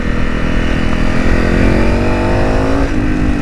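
A Honda CRF300 dirt bike with a Stage 4 setup revs hard and steady, a loud, close engine drone climbing in pitch as it accelerates, then easing at the end.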